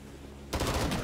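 Burst of rapid friendly gunfire in the Vietnam-era shooter Rising Storm 2, erupting loud and close after a quieter stretch and rattling on in fast repeated shots to the end.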